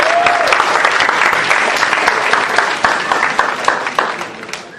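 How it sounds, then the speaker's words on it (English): Steady, loud applause from a live event audience fills the space, a dense wash of many hands clapping that holds evenly before tapering slightly at the end. "big round of applause for the LDM Show"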